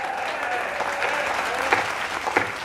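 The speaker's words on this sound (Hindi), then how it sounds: "तालियां बजाइए" Audience applause at a Hindi poetry recital, steady crowd clapping with a faint voice underneath and a couple of louder individual claps near the end.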